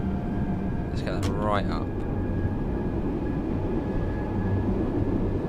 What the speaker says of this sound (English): I feel it is slightly noisy, this train